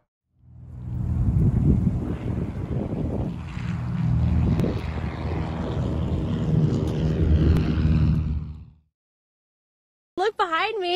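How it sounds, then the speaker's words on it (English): Beam electric aircraft landing, heard as a steady, loud broadband whoosh of propeller and wind noise that rises and falls over about eight seconds, then cuts off into silence before a brief burst of speech at the end. "Look behind me. It landed."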